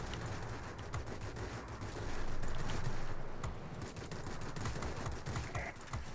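Aircraft cannon fire from the Tu-1 in World of Warplanes rattles in dense rapid bursts over a constant engine roar, with a louder sustained stretch in the middle.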